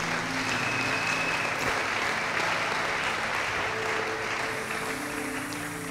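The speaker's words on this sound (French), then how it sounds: "Est-ce que tu peux acclamer cette synthèse?" A church congregation at a French-language sermon breaks into sustained, even applause that keeps a dense clapping texture throughout with no pause.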